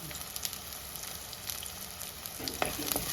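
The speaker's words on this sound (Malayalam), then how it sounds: "അതായത് നമ്മുടെ ഉള്ളി ജസ്റ്റ് ഒന്ന് വാടണം, അതുവരെ നമുക്കൊന്ന് ഇളക്കി കൊടുക്കാം." Chopped shallots and curry leaves frying in oil in a Kerala kitchen, a soft continuous sizzle with faint scraping stirs, quiet and close, with a few louder scrapes near the end.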